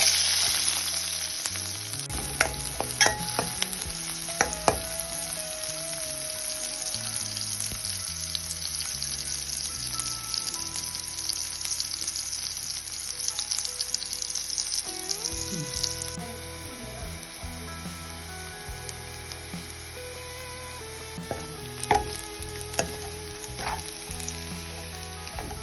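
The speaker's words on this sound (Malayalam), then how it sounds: "ആ വെളിച്ചെണ്ണയിലേക്ക് തന്നെ നമുക്ക് കുറച്ച് ചുവന്നുള്ളി ഇട്ടും ഇതുപോലെ വറുത്തെടുക്കാം." Shallots fry in coconut oil with a strong, continuous crackling sizzle, close and busy, broken by a few sharp stirring knocks against the pan, and no voices.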